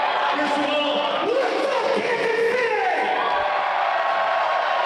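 Wrestling crowd at a live indie show cheering for Major Baisden, a steady roar of voices with whoops and shouts, while a commentator talks over it.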